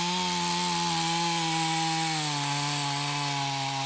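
A chainsaw bores into the heartwood of a tree trunk from the notch side, a steady loud close engine whine that drops slightly in pitch as the bar meets resistance.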